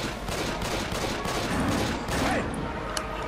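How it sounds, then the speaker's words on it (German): Rapid gunfire in the zombie shooter Left 4 Dead 2, a dense, continuous volley of pistol shots that runs loud and steady throughout, with a faint voice in the background. "Ich schieße den erst mit der Pistole."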